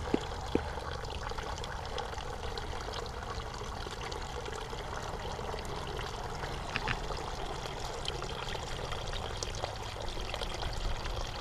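Water pouring steadily from the outlet of a screened pump in an outdoor NFT hydroponic system built for beans and peas, a continuous close splashing stream.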